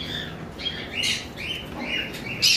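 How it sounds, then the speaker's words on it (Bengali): Lovebirds in a bird shop chirp in quick, shrill bursts at close range, several calls overlapping in irregular rhythm against a quiet background with no talking. "উপরে কিছু লাভবার্ড রয়েছে"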